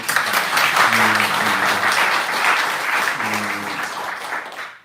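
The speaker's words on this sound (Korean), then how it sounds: "우리 선교사님들 격려하면서 박수 한번" Church congregation applauding visiting missionaries during a Korean worship service, dense sustained clapping with a speaking voice faintly beneath, fading out at the end.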